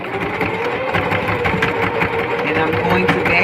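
A Singer Heavy Duty sewing machine stitches a seam, a continuous close mechanical whir with rapid needle chatter while a person talks over it.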